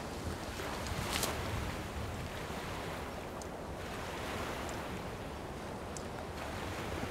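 Continuous broadband wash of sea waves on a shore, steady and moderately loud with light wind noise and a few faint high clicks, no voices.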